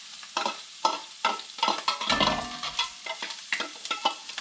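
Chopped onions sizzle in hot fat in a pan for chili while a spoon stirs and scrapes them in irregular bursts, close and fairly quiet, with no talking.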